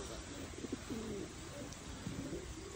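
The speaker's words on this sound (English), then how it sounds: "That's Paul's bird." A racing pigeon coos at the loft as it arrives home from a 200-mile young-bird race, giving soft, low, rhythmic coos over a steady, noisy outdoor background.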